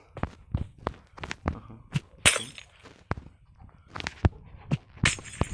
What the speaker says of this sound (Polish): a tylko jak rozwalam szkło jest tak głośno.